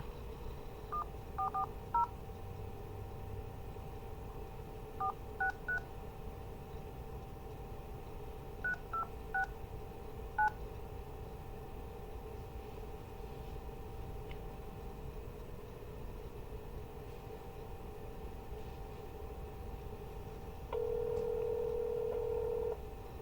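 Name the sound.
telephone keypad DTMF dialing and dial tone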